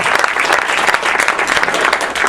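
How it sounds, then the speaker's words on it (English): An audience at an aldermanic debate applauds, a short burst of dense, steady clapping from a room full of people. "give Representative Greg Harris a big round of applause for jumping in there"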